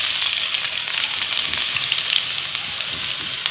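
Chopped onions hiss and crackle in three to four tablespoons of well-heated oil as a keema meat sauce for spaghetti begins, a steady close-up sizzle with no voices.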